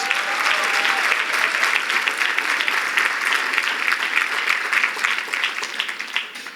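Applause from a gala audience, many hands clapping in a full, steady roar with a few sharper individual claps standing out, easing a little near the end.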